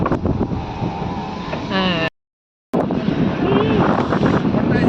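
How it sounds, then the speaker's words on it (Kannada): Strong wind on a hilltop near wind turbines buffets the microphone with a loud, rough roar, cutting out briefly midway before the gusting rumble resumes. "ಸಿಕ್ಕಾಪಟ್ಟೆ ಗಾಳಿ ನೋಡ್ತಾ ಇದ್ದೀರಾ?"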